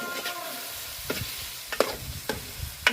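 Brinjal curry is stirred in a pan over a soft sizzle, with four distinct scraping strokes of a spoon against the pan spaced about a second apart, heard close and alone.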